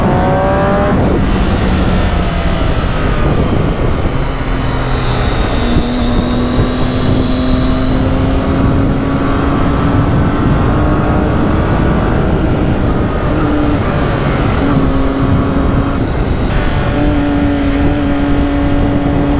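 Triumph Daytona 675 sport motorcycle on an open road ride, a loud continuous engine whine rising and falling through gear changes with steady wind rush, no talk.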